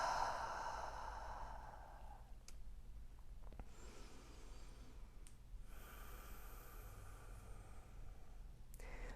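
A slow exhale during a yoga flow, a soft breathy rush at the start that fades into a quiet room, faint and close with no talk.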